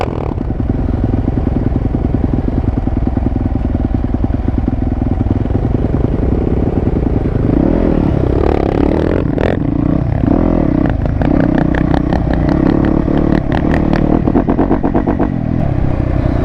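Thumpstar dirt bike ridden at a dirt bike track, a loud raw engine note with rapid rhythmic firing, rising and falling revs and clattering near the end, close and constant with no talking.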